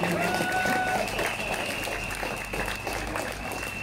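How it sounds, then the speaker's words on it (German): Steady applause from a live audience at a community open-mic event, dense broadband clapping holding at an even level throughout with a faint tonal whine running underneath. "Ja, euer Applaus"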